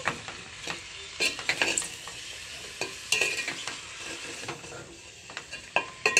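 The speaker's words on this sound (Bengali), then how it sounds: "লবণটা দিয়েও আবারও একটু আমি ভালো করে এরকম সমস্ত মশলার সঙ্গে কষিয়ে নেব" Spices and salt are sautéed together for a rustic katla fish and bottle gourd curry, with a quiet steady sizzle under repeated scraping and stirring strokes of a spatula against the pan.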